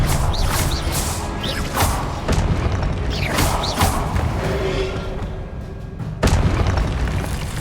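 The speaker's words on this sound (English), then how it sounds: "Expelliarmus!" A spell cast in the video game Hogwarts Legacy lands as a heavy magical boom with crashing impacts and whooshing bursts, continuous and loud throughout, with a sharp new hit near the end.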